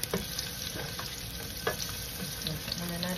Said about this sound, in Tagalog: Luto muna natin yung ating bawang at sibuyas. Isa lang tayo. Brown lang natin ng konti.